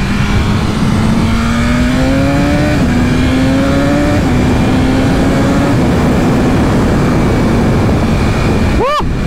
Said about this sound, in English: I'm hearing the engine with a combination of the exhaust